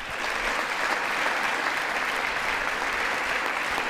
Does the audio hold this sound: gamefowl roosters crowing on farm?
no